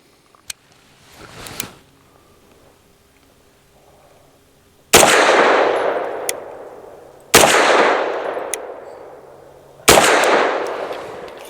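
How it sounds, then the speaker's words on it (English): Three loud, close 9mm pistol shots from a Tisas 1911 Duty B9R DS with a 5-inch slide, firing Underwood 90-grain Extreme Defender ammunition outdoors, spaced a couple of seconds apart with long ringing decays, after a few faint clicks of handling. "Starting off with Underwood 90 grainers. These are the Extreme Defenders."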